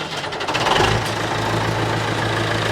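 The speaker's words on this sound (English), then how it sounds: "You want to hear how a scrap iron tractor runs?" An 85-horsepower tractor engine, bought as scrap iron, runs steadily close by with a low droning rumble and knocking vibration, holding a constant idle-like level throughout.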